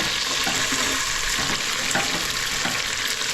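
Dal lentils frying in a pan, a steady close sizzle with light stirring scrapes running unbroken throughout.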